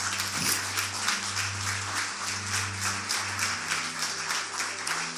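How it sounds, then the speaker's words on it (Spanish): A church congregation applauds in praise, with fairly quiet, evenly pulsing clapping over a steady low hum and no talking. "Denle un aplauso fuerte a Dios."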